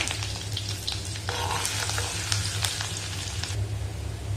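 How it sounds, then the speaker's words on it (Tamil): Small onions sizzle and fry in a pan for a curry, a dense continuous crackle with occasional stirring scrapes, close and steady without talk. "வெங்காயம் வந்து கொஞ்சம் நல்லா சிவக்கிற அளவுக்கு வதக்கணும்"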